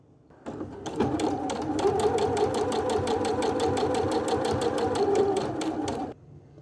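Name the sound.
sewing machine topstitching a 1 mm seam along edge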